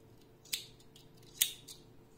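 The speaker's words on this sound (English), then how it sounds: "now we can cut the yarn." Scissors cut crochet yarn with two distinct, close snips and a fainter third, quiet and isolated against a soft room hush.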